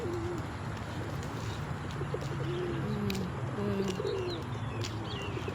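Pigeons coo repeatedly near a cemetery in the morning, soft low murmuring calls over constant outdoor ambient noise, with a few faint chirps and clicks above.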